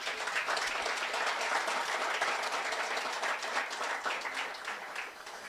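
Sustained applause from a crowd at a church pastoral luncheon, a dense wash of clapping that holds steady and fades slightly at the end.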